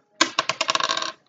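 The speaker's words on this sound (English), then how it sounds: "let's roll the dice again." Dice rolled by hand during a game challenge, a quick clattering burst of a dozen or so hard clicks and bounces that speed up and fade, close and loud, with no talking.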